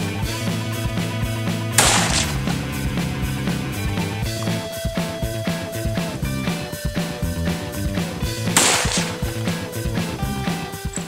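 A Ruger No. 1 rifle chambered in 450-400, resting on a bipod, fires two sharp reports about seven seconds apart, heard over dense music that fills the whole stretch.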